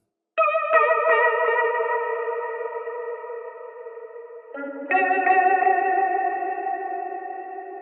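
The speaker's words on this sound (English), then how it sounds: "Vibrato, tremolo, and a phaser, all working together." Sustained electric guitar chords shimmering with vibrato, tremolo and phaser sweeps, washed in Valhalla VintageVerb reverb; two long ringing strums, the second entering after a brief dip.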